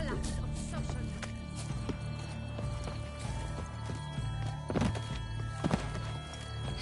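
A horse gallops in The Witcher 3, its hooves a steady clip-clop rhythm under game ambience and a speaking voice, with a couple of sharper thuds near the end.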